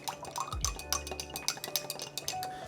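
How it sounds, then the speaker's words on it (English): A spoon stirs pumpkin spice and rubbed sage into a cocktail mixture in a glass vessel, making quick, close clinks and scraping taps in an uneven rhythm, alone without talk. "Give that a good stir."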